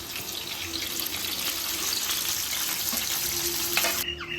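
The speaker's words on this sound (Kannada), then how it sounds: "ಆ ಟೊಮೆಟೊ ಹಾಕ್ತಾಯಿದ್ದೀನಿ" Thickly chopped tomatoes hit a hot frying pan and sizzle in a dense, steady hiss of moderate loudness. The hiss holds up close for about four seconds, then drops off abruptly.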